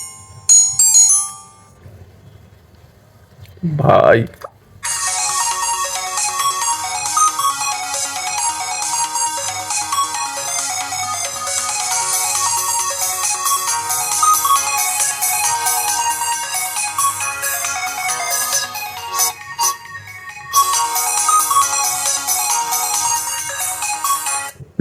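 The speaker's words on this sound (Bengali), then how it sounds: "এখন আমরা প্রথমে দেখে নেব যে এই ফোনটির রিংটোনের সাউন্ড কেমন হয়।" A Symphony keypad 4G feature phone from 2024 gives a short chirp, then plays its ringtone melody loudly and continuously, with a brief break near the end before it resumes. A single word is spoken early on.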